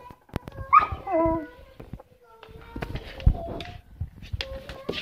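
Belgian Malinois puppy, four months old, whimpering and letting out a few short high yips and barks up close indoors, with a person talking over it and toy or floor knocks between.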